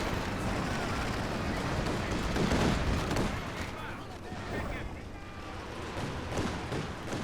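Dense gunfire and artillery from a Company of Heroes 2 multiplayer battle, continuous rattling shots and booming blasts layered throughout, loud and busy from start to finish.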